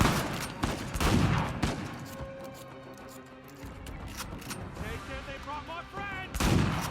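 Close, loud shotgun blasts in Uncharted 4: A Thief's End during a close-quarters firefight, with a few heavy bursts spaced across the scene amid background game sound and music.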